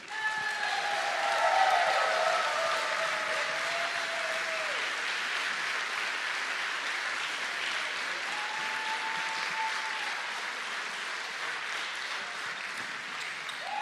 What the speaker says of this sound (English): So a big round of applause for all the people who's been working very hard for this event.